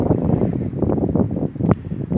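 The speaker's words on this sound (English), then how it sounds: "The wind is blowing." Wind blows across an outdoor park and buffets the microphone nearby, producing a loud, ragged low rumble that surges and dips through the short moment.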